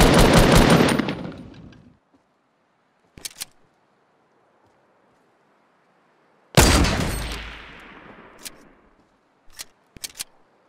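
Two bursts of rapid automatic gunfire in Fortnite Battle Royale, each about two seconds long with a decaying tail, followed by a few short isolated shots, loud and close with silence between.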